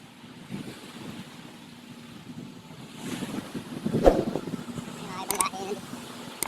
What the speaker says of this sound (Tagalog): nandito naman tayo sa dagat